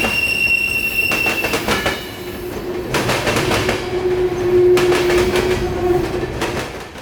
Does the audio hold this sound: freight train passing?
yes